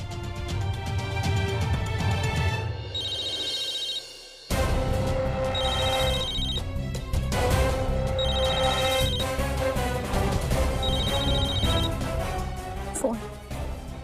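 A melodic mobile phone ringtone repeats in short bursts of high tones, playing over loud, dense background music that drops out briefly, in a Hindi TV serial.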